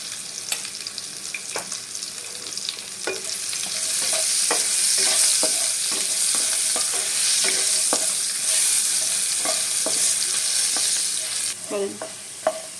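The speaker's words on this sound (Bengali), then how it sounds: "দেখো আমার আলুটা ভাজা হয়ে গেছে" A continuous hiss of potatoes frying in a pan, with regular scraping knocks of a spatula turning them, fairly close and steady throughout.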